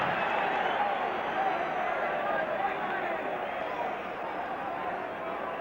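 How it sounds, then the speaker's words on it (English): Near-capacity crowd at Lang Park in Brisbane for a 1967 rugby league test between Australia and New Zealand, a dense steady murmur of many voices that stays loud, then eases slightly toward the end. "There's a near-capacity crowd at Lang Park in Brisbane for the second Rugby League test between Australia and New Zealand."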